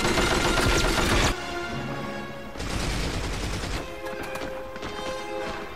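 Rapid gunfire rattles against a turret in the 007 From Russia with Love video game, with dense bursts of shots, brief lulls and renewed volleys over a busy game soundscape.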